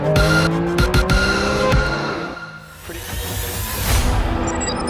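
A 2023 Porsche 911 GT3 RS of the 992 generation howls loudly around a racetrack, its engine pitch sweeping up and down as the tires squeal and skid through corners, with no talk over it.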